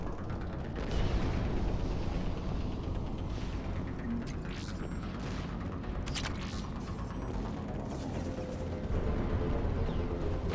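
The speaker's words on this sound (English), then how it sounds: "Commander, we're getting a lot of mortar fire." Mortar fire in the video game Mass Effect 3 Legendary Edition: a low, rumbling battlefield bed with a few sharp, distant blasts and mechanical clatter clustered midway, fairly quiet overall with no clear speech.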